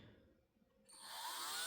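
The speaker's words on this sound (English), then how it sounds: "I'm just going to drill away" Power drill boring into a 38mm Ace lock, starting after near silence and rising into a steady high-pitched whine that holds to the end.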